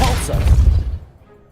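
A force spell is cast in the Hogwarts Legacy video game, a short heavy thud and whoosh that hits hard and then fades away fast.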